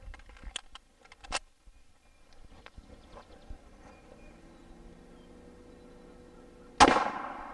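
A single sharp gunshot from a 9mm firing Remington 115 grain Golden Saber brass-jacketed hollow points at a sheet metal target cracks near the end, loud and close, after a stretch of faint clicks and handling sounds.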